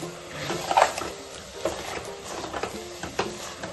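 Onions fried with coriander and mint leaves are stirred in a pot for quail biryani, giving a steady close sizzle with scraping spoon strokes and a few soft clinks against the pot.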